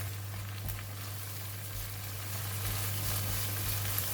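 An egg frying in onion oil in a pan with vegetables for kailan fried rice gives a steady, soft, even sizzle with a low constant hum beneath it.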